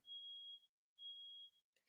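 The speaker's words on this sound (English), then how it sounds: "Their alarm is going off." A neighbor's smoke alarm sounds two long, steady high-pitched beeps separated by a short gap, faint and steady, with a brief trace of a voice at the end.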